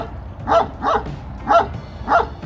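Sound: Kangal dogs barking at a breeding farm

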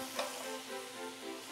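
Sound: abalone lightly stir-fried in sesame oil

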